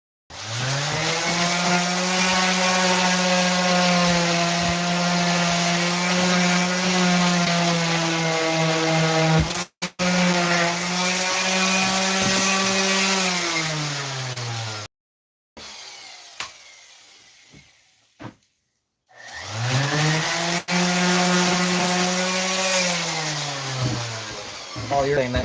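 Power sander running on wooden boards: a loud, steady motor whine in long passes, stopping briefly between runs and restarting, with a quieter gap in the middle.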